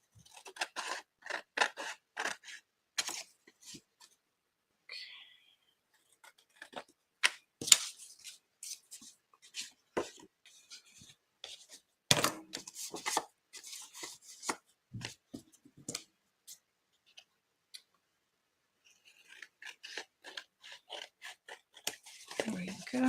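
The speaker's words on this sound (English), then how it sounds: "And we'll get that a little trim." Scissors snip and trim a large index card in repeated short, crisp cuts, with pauses between bursts and a soft scrape as the paper is handled, while a person talks intermittently nearby.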